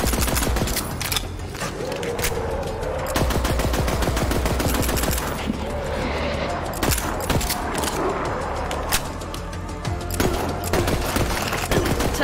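Heavy video-game gunfire in Borderlands 3, bandit combat with fast repeated shots and automatic bursts that stay loud and near throughout, mixed with mechanical clatter.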